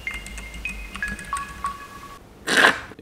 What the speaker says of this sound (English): But I added some reverb and some delay.